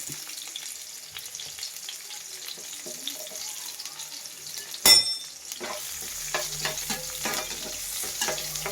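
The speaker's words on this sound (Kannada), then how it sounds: "ಇದನ್ನು ಸ್ವಲ್ಪ ಹೊತ್ತು ಬಾಡಿಸ್ಕೊಳ್ಳೋಣ." Two chopped onions sauté in oil in a pan for chilli chicken, giving a steady close sizzle broken by stirring scrapes. A sharp clatter comes near the midpoint, and the frying grows busier after it.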